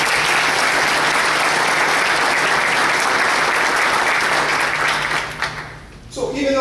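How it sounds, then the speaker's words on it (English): An audience claps for local businesses at a Lake Elsinore city address, sustained loud applause filling the room for several seconds before tapering off near the end. "please give them a round of applause"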